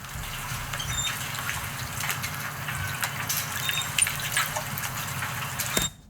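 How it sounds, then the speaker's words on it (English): Flowing, gushing water sound played in a movement-controlled video mapping art installation, a steady rush with faint splashes throughout, moderately loud and continuous before cutting off abruptly at the end. "There are these waves, the sound, you can hear water"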